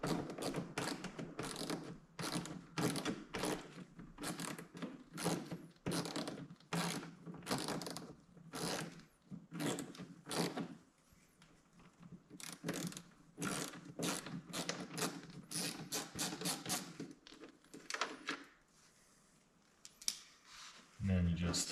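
Ratchet undoing a 7mm screw under a C8 Corvette Z06 or E-Ray, quiet rapid clicking in bursts, near and soft, with a brief pause midway.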